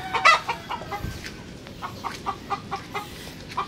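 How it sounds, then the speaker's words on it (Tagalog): Several chickens cluck in short, irregular bursts at close range, with a quieter ambient hiss between calls. "Ito yung mga manok ko dito."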